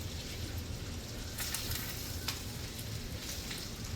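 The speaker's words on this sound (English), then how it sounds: "it can fry a little because it's kind of supposed to be like fried rice" Rice frying in a pan while home cooking fried rice, a continuous close crackling sizzle with brief louder pops and stirring scrapes.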